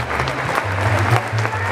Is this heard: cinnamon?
no